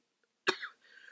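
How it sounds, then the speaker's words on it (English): A single sharp cough breaks the quiet, close and loud, followed by a faint trailing breathy sound. "I literally have not been coughing"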